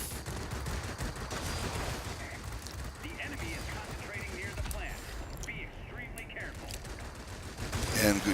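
Aircraft guns chatter in steady bursts during a World of Warplanes dogfight flown in an A7M fighter, sitting under engine drone and a voice talking over the action.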